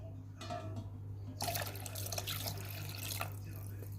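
Water pours into the bowl of a Compact Cook Pro kitchen robot while a butternut and fresh goat cheese risotto is being made, a steady splashing stream over a constant low appliance hum.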